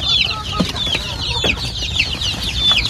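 Several turkeys gobble and chirp in a busy flock, their calls overlapping against a steady outdoor background.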